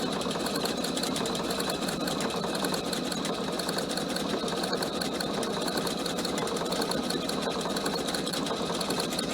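A PFAFF sewing machine stitches through several thick layers of a cushion cover, a steady, close, rapid mechanical chatter running without pause.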